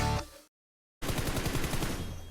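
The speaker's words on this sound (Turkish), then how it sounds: "Silah sesi yukarıdan geldi." Rapid bursts of automatic gunfire in the video game PUBG Mobile, a short volley, a brief silence, then a longer sustained rattle of shots, loud and close.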